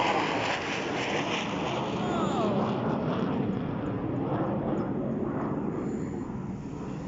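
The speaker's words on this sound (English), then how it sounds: "hello, big scary aeroplane." An aeroplane passes overhead as a broad, steady roar that swells and then slowly fades over several seconds, with wind noise buffeting the microphone and a person talking faintly under it.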